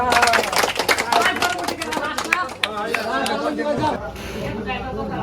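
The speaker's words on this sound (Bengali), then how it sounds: "তার জন্য একটা হাততালি সবাই" A crowd claps and chatters for the winner of a timed wheel-removal contest round, with continuous dense applause mixed with voices and bustle, loud and close throughout.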